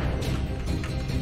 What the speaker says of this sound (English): the pendulum trap will sound like this with the swishing noise